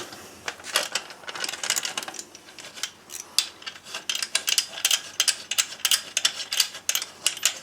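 A 12 mm bolt is worked loose on a car in a garage, with rapid, irregular metallic ratchet clicks and taps in bursts, close and fairly loud, with no talking.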